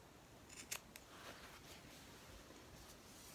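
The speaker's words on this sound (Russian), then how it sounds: "Вырезаю ножницами зигзаг." Pinking shears snip a zigzag edge into knit fabric, giving a few quiet, crisp metallic cuts close by, followed by soft rustling in a hushed room.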